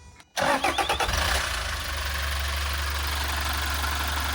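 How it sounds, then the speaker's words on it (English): A van engine cranks with a quick rhythmic churn, catches, then settles into a steady low idle, close and clear, run to prime a new oil filter. "I'm going to run the engine"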